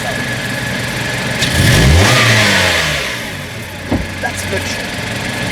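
Petrol engine of a 2017 Mazda CX-5 revved once from idle, the pitch sweeping up and falling back over a couple of seconds, recorded close up, followed by a few faint knocks and a voice in the background.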